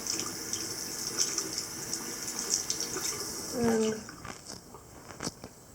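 A tap runs steadily while something is rinsed, a fairly faint, even water hiss with small splashes and a brief spoken word partway through.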